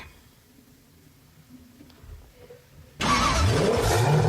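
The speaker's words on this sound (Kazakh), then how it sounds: "жеңіл көлік," After a quiet stretch, a passenger car engine suddenly roars to life and revs loudly, its pitch climbing and sweeping as it accelerates.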